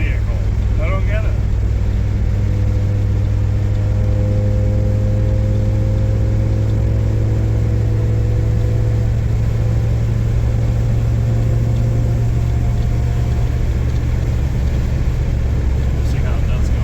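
Toyota Tercel wagon with a swapped 4A engine and a Schneider Racing cam regrind idling with a steady loud rumbling lope, continuous and close, while people talk over it.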